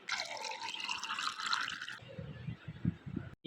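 Water pours and fills a container for lemon water at home, a close hollow trickle that deepens into lower gurgling drips before stopping abruptly.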